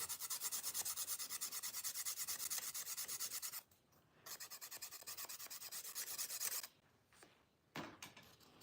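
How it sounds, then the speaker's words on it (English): Steady rasping of sanding or filing as a part is trimmed for an F scale 1:20.3 garden railroad roundhouse, close and continuous in long strokes with two brief pauses, no talk. "let's trim it just a hair more"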